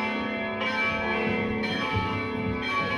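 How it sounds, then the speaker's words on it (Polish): A small church signal bell rings steadily before early morning mass, bright sustained tones swelling in repeated strokes about once a second, with no voices. "Wystarczy wyjść z domu, gdy kościelny dzwoni sygnaturką 5 minut przed 6."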